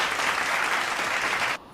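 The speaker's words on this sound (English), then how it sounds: "Let's clap for that." An audience claps together in a dense, steady burst that holds evenly before stopping abruptly, at a conversation with Dr. Catherine Stock.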